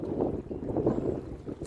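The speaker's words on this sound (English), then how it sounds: "I know you're hearing it, the wind, right?" Wind gusts roar and buffet against the microphone outdoors on the water, a low rumbling rush that swells and fades over a couple of seconds.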